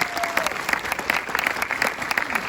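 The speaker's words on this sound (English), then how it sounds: "Let's give a round of applause" A brief stretch of audience applause at a church sermon, steady mid-distance clapping from a crowd with no one speaking over it.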